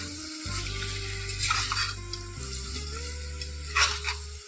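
Masala bhat ingredients, including cashews, curry leaves and coriander, are stirred into a sizzling tempering, giving a steady loud fry hiss with occasional scraping strokes close by and no talk.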